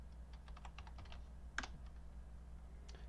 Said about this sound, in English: I'm just like randomly typing shit into the chat to see what sticks and what doesn't